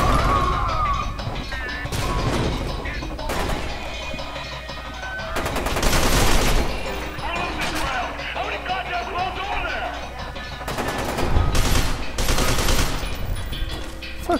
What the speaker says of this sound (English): It's definitely gunfire.